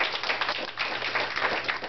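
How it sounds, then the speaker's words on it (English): An audience claps steadily through a ceremony for young people in a SummerWorks program in Mattapan. The applause is a dense, continuous patter of many hands, fairly loud, with no one speaking over it. "Let's give the young people another round of applause."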